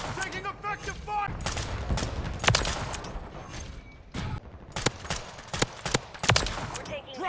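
Rapid bursts of gunfire and scattered single shots from Call of Duty Modern Warfare 3, fairly close, with a radio-style voice talking over the shooting.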